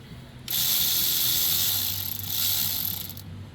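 A ratchet tightens a nut on a Kohler engine's dual-barrel carburetor, giving a steady, close, rapid clicking that runs for about three seconds over a low background hum.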